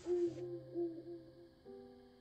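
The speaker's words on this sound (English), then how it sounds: "Oh, hey, an owl." Owl hooting in a video game scene: a few soft, low tonal hoots repeating over a faint background tone, with no talk.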